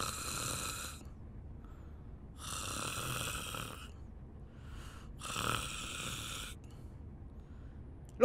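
A sleeping person snores loudly and steadily, with three long rasping breaths separated by quiet pauses and a short snort between them, heard close and alone.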